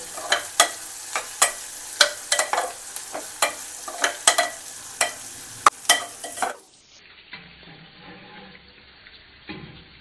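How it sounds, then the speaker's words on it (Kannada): Green chillies and urad dal frying in hot oil for a raw banana stir-fry, with repeated close ladle scrapes and stirs over a steady sizzle for about six seconds, then a quieter low simmer; no talking. "ಈ ಥರ ಒಂದು ಮೂರು ಮೆಣಸಿನ್ಕಾಯಿ ಉದ್ದು ಕಚ್ಕೊಂಡು ಹಾಕ್ಕೊಳ್ಳೋಣ ಇದೆಲ್ಲ ಸ್ವಲ್ಪ ಫ್ರೈ ಆಗಲಿ ಎಣ್ಣೆಯಲ್ಲಿ"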